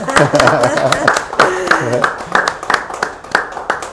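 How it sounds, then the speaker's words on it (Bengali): At a jewellers' Shubho Vivaha Utsav 2022 mega lucky draw, a small group claps in scattered, uneven bursts while voices keep talking over and between the claps. "দুর্গা একটু হাততালি দিই আমরা"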